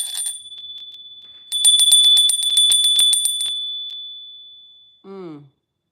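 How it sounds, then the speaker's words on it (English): A small handheld bell rung close up: bright metallic dings, a quick rapid run of strikes, then a long ringing tone that slowly fades, followed by a brief falling whistle-like sound. "I'm going to ring the bell."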